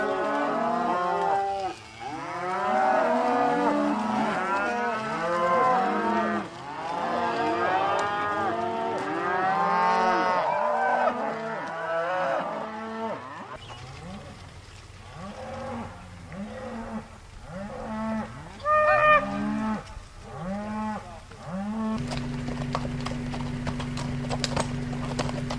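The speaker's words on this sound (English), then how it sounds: "having a cattle drive, bringing their cows back to the home ranch from summer range in the mountains" Cattle mooing repeatedly during a mountain-to-ranch cattle drive, many cows bellowing near and far in overlapping calls, joined by the clip-clop of horses, with the herd sound continuing under a steady hum later on.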